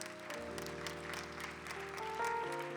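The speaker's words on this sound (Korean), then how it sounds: "좀 박수로 축복합시다" A church youth-service congregation applauds to bless a member leaving for military service; soft, steady clapping sits beneath sustained organ or keyboard tones throughout.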